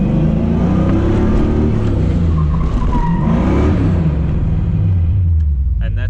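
A car revs hard as it is driven in and thrown into a handbrake drift in a 90-degree turn, the engine roaring loud and close with tyre skid noise throughout, easing off near the end.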